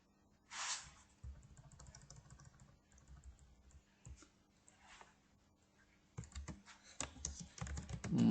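Typing on a computer keyboard, close clicking keystrokes in uneven bursts separated by short pauses, with brief louder clusters near the end.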